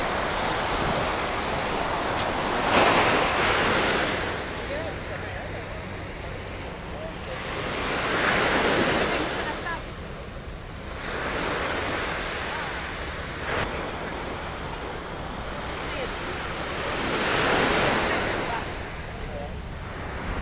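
Surf washing ashore at Dubai's public beach near the Burj Al Arab, with swells rising and falling about every five seconds under a steady hiss of wind noise, fairly close and continuous.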